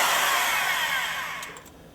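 An electric impact wrench runs up to tighten the nut on a link bolt of an AMC car, a loud steady whir that tapers off near the end of its brief burst.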